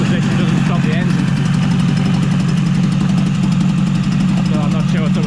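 A Yamaha 20A two-stroke outboard engine runs steadily at idle, a loud, constant low drone with a rapid rhythmic pulse and slight knocking texture, close by and uninterrupted.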